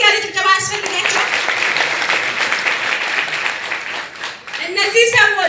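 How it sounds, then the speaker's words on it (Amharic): Warm audience applause for car award winners at a gathering, a loud sustained wash of clapping from a crowd that holds steady for several seconds, with a voice heard over it at the start and again as it fades. "ስለዚህ አንድ ሞቅ ያለ ጭብጨባ ያስፈልጋቸዋል"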